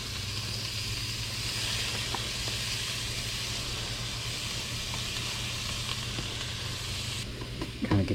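Catfish and chopped spinach sizzle and fry in a hot pan, a steady, even hiss of oil that runs the whole time, with a faint clink near the end.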